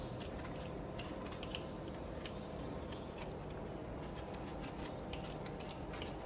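A kitchen knife peels an apple close up, making a soft, continuous scraping and rasping with small clicks, faint and steady throughout.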